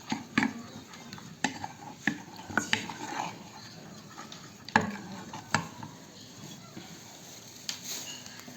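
Pistachio dessert ingredients being stirred and mixed together in a bowl, with scattered utensil clicks and taps over soft background noise.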